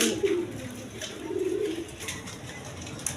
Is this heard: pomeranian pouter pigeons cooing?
yes